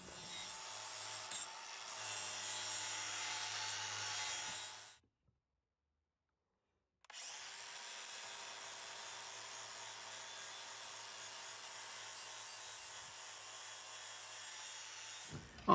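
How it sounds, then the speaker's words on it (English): A 40 grit flat abrasive wheel grinds rusty, pitted chrome on a Mercedes R107, a steady broadband abrasive rasp that stops for about two seconds midway, then resumes at a slightly lower level; no talk. "I'm going to start off with a 40 grit flat wheel and show you exactly what happens."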